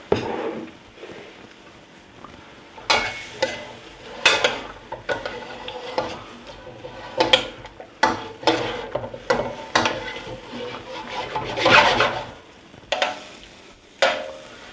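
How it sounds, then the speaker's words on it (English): A vegetable stir fry is tossed and stirred over high heat, with repeated scraping strokes of a utensil against the pan every second or two over a steady frying sizzle, close and fairly loud. "Remember, high heat and frequent stirring."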